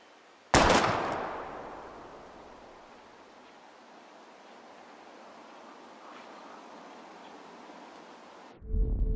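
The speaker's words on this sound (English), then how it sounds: "We're gonna shoot all these bottles without wasting a single bullet" A single loud gunshot at bottles in Life Is Strange, a sharp crack followed by a long hissing decay and steady ambient noise, with another burst at the very end.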